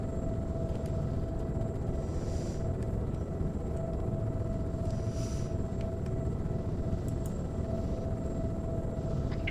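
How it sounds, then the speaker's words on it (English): Inbound helicopters in the military video game Arma 3 produce a constant low rumbling drone with a steady whining tone over it, sustained and fairly loud with no voices. "Choppers inbound south."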